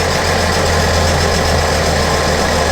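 The engine of a 2014 Sea-Doo GTX 215 personal watercraft runs at a steady speed, a loud, constant drone with a low hum and no change in pitch, heard alone without talk.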